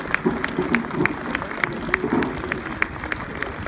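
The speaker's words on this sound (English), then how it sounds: "Just give me a round of applause." An outdoor crowd at an Armed Forces Day Royal Engineers bridge-building demonstration in Liverpool claps, with sharp individual claps standing out in a loose, uneven rhythm and a few faint voices mixed in.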